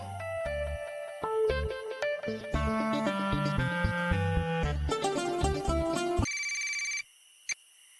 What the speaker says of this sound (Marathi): एक फोन करून येऊ